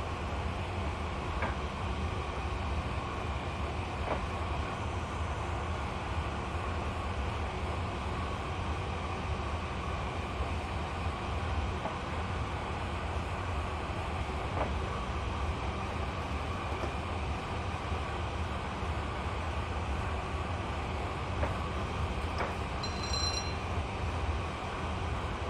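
An APT-P train runs on a British line in Train Simulator Classic, giving a steady, continuous rolling rumble and rail drone with faint periodic clicks over the whole stretch and no talk.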